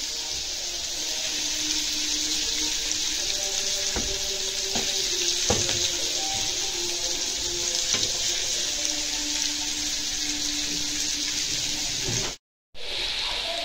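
Alexandrian-style liver frying in a pan over very high heat, a loud, steady hiss of sizzling close by, with a few light scraping clicks of stirring, cut by a brief silence near the end.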